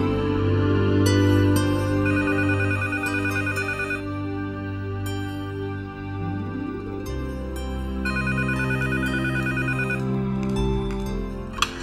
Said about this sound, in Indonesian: Lagian saya juga mau telepon Putri